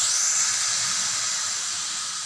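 Radish pieces sautéing in coconut oil for a radish chutney, giving a steady, loud, close hiss of frying that holds evenly throughout with no talking.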